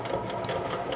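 A bread machine kneads sourdough discard dough, giving a steady mechanical whir with faint rhythmic knocking. The sound is close and moderately loud, with no talk over it.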